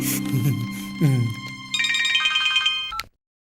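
A telephone rings with a bright electronic ringtone melody of short stepped tones, loud and close, playing for a few seconds before cutting off abruptly into silence.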